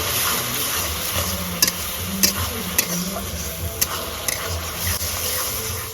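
Soaked, washed masoor lentils go into a pan of frying gravy for a home-style Bengali fish curry, giving a steady sizzle under scraping stirs and several sharp clicks of a spoon against the pan.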